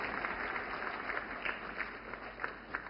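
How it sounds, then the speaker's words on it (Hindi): An audience at a women's empowerment event with Prime Minister Modi applauds to welcome Ganga Sagar Didi from Sambhajinagar, Maharashtra, with steady, moderately loud clapping throughout. "जोरदार तालियों से स्वागत करें हमारी गंगा सागर दीदी का।"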